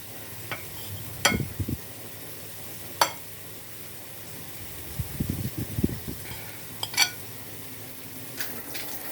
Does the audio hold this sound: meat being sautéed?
yes